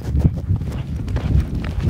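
Polo pony hooves thud on a grass field during play, a steady run of close, dull footfalls with no talking.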